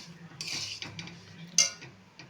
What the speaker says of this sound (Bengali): দিয়ে আবার সুজিটাকে হালকা করে গ্যাস কমিয়ে আমি এটাকে ভাজা ভাজা করব।